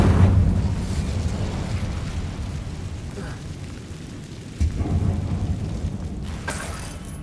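A fire spell cast in Hogwarts Legacy, a low rumbling whoosh with a crackling roar that swells, eases, then surges again midway, no talking.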